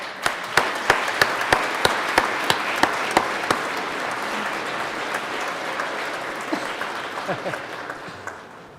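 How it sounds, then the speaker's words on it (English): Colorado Senate chamber audience applauds, starting with a string of evenly paced, sharp claps that swell into sustained crowd applause, then gradually thins out with a few scattered claps near the end. "Let's give them a round of applause."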